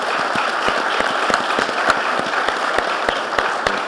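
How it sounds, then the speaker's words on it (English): An audience at a health conference session on fighting cancer and heart disease applauds the speakers, a loud, close, continuous clapping with distinct individual hand claps standing out throughout. "Please give these brothers a round of applause"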